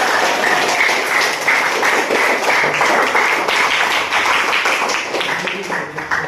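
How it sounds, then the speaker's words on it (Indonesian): A classroom claps for the best group, group 1: dense, steady applause from many hands runs throughout, with chatter mixed in. "silakan tepuk tangannya yang paling"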